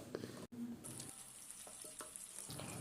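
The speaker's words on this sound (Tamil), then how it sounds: "கேஸை மீடியம் ஃப்ளேம்லேயே வச்சு ஃப்ரை பண்ணுங்கள்" Prawns fry in hot oil in a pan over a medium gas flame for a pepper fry, giving a quiet, continuous sizzle broken by a few stirring scrapes and spatters.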